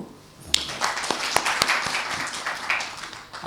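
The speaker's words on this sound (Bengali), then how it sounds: "আমরা সবাই ওনাকে একটা করতালি দেব" Audience at a making-of event for the film Operation Jackpot breaks into applause, a dense patter of claps that starts abruptly and carries on steadily at moderate distance, with no talk over it.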